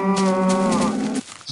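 A single drawn-out cow moo from Minecraft, loud and close, with a clear tonal lowing that holds for about a second before cutting off abruptly.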